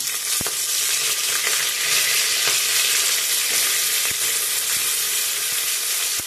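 Cumin, mustard seeds, a broken chili and curry leaves tempering in hot oil for rajma masala rice, giving a steady, close, bright sizzle with faint crackles and pops throughout, no talk.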